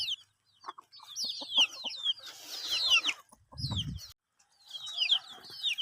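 A hen sitting in a crate on a village farm clucks in short, soft bursts, close by, while small birds chirp steadily in the background; the setting is otherwise quiet.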